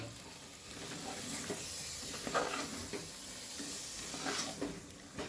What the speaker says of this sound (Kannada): ಆಲೂಗೆಡ್ಡೆ ಬದನೆಕಾಯಿ ಎರಡನ್ನೂ ಚೆನ್ನಾಗಿ ತೊಳೆದು ಕಟ್ ಮಾಡ್ಕೊಂಡಿರೋವಂಥದ್ದನ್ನು ಸೇರಿಸ್ಕೊಂಡು ಇವಾಗ ಇದನ್ನು ಸಹ ಚೆನ್ನಾಗಿ ಮಿಕ್ಸ್ ಮಾಡ್ಕೊಳ್ತಾ ಇದ್ದೀನಿ